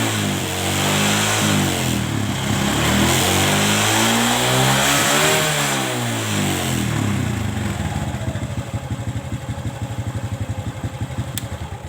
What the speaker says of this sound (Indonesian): Kita cari yang lebih ringan, yang lebih enteng suara mesin dan suara langsam.